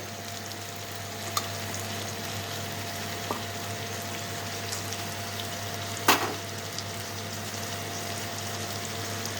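Potatoes and tomato go into a frying pan for a spicy chicken liver and stomach curry, giving a steady close sizzle and hiss with a few faint clinks of utensils.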